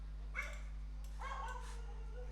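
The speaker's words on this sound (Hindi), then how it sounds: "कुछ कुत्ते भौंक रहे हैं, तो आप परेशान मत होइए।" Several dogs bark a short way off in a residential area, two or three brief yips and barks over a steady low electrical hum.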